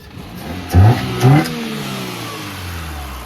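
A Renault Clio engine revs hard twice in quick succession, close and loud, then settles back to a steady idle hum.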